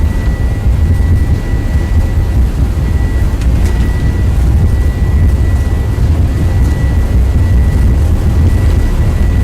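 Toliss Airbus A321 on its takeoff roll in X-Plane 11, a loud steady low engine rumble with a thin whine held on top, continuous without talk.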